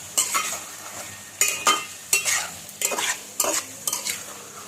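Spice paste being stirred into mutton curry frying in a pan: about seven distinct scraping, clattering stir strokes, close and fairly loud, over a low background sizzle.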